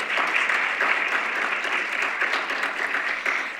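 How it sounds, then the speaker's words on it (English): An audience at an African-American history and culture conference gives a loud, sustained round of applause, dense clapping from many people that holds steady throughout. "Could y'all please give her a round of applause?"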